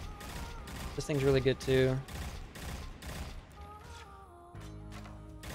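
A pulse rifle fires in Destiny in rapid bursts among other game sound effects and tonal chimes, with someone talking over it.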